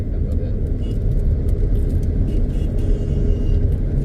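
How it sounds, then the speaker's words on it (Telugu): Road traffic jam with cars in Prayagraj or Varanasi, a steady loud rumble of idling and creeping engines close by, continuous throughout with no horns standing out. "ఇక్కడ ట్రాఫిక్ జామ్"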